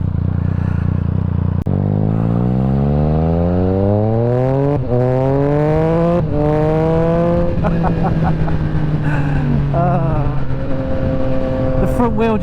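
Triumph Speed Triple RS motorcycle with an Austin Racing exhaust revs hard up through the gears, rising and dropping in pitch with sharp pops and crackles on downshifts, loud and close under riding wind.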